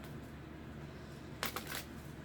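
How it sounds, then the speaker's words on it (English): A brief, crisp riffle of tarot cards being shuffled, heard once against a quiet background hum. "Shuffling one more time."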